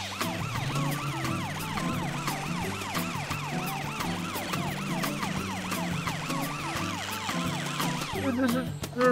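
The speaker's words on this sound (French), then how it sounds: "Heureusement, Amber l'ambulance a dû voir ce qui s'est passé. La voilà qui arrive avec bébé Amber." A cartoon ambulance siren from an animated children's show wails in a continuous rising-and-falling pattern, loud and close, with a steady rhythmic hum underneath for the whole stretch.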